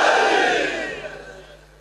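A large crowd at a Shia majlis shouts a religious slogan in unison as a response, loud and close at first and then fading away.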